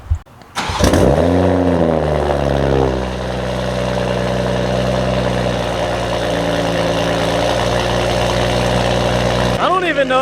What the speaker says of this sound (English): So I'm gonna go ahead and just get you a good cold start.